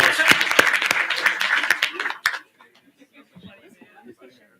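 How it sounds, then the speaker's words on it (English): A brief round of applause at a student assembly meeting, a few seconds of scattered, distinct claps that stop abruptly, followed by faint talk in the room. "Round of applause. Round of applause."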